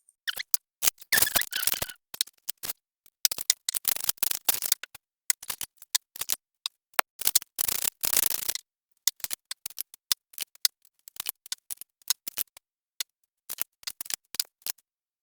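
Tarot cards being shuffled and drawn for a reading, close bursts of crisp card riffling and slaps separated by short silent gaps.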